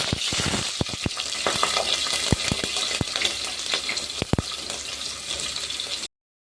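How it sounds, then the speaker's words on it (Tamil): Cumin and fennel seeds frying in hot oil as a tempering for a kurma, giving a steady close sizzle with sharp crackling pops throughout and no voices. "சீரகம், பெருஞ்சீரகம் போட்டு பொரிய வச்சுக்கலாம்."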